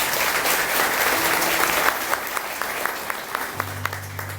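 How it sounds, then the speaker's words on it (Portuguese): A church congregation applauds together, a dense, loud wash of clapping that fades to scattered claps, with a low hum of music or a voice coming in near the end. "Vamos aplaudir a palavra do nosso Deus."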